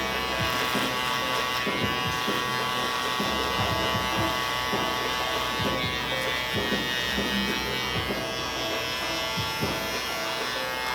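Cordless T-outliner hair trimmer buzzing steadily at a barbershop during an undercut bald fade, a continuous close electric hum with faint background voices underneath.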